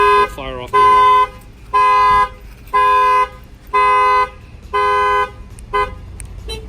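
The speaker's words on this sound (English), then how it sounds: "If the horn starts honking, you have a factory alarm system" Factory car alarm on a 2019 Nissan Rogue honking the horn in six even, repeated loud blasts, close by, preceded by a short warbling chirp, with a voice in the background.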